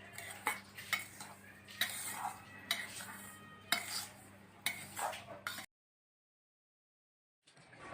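A spoon stirring ghughra filling ingredients in a metal pan, with repeated scraping and clinking strokes up close at an uneven rhythm, then a sudden break into silence before a faint return.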